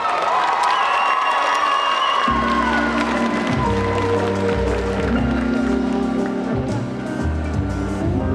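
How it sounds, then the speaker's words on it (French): Audience at a cosplay contest and catwalk during a geek convention, clapping and cheering loudly in a continuous wash of crowd noise, with whoops and shouts over booming music that kicks in partway through. "Je vous demande d'applaudir, de crier, de faire du bruit pour Charlotte Cosplay"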